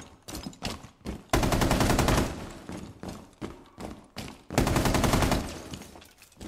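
Bursts of automatic gunfire from the video game Rainbow Six Siege, loud and sustained, alternating with shorter single shots and thuds, with no talk over them.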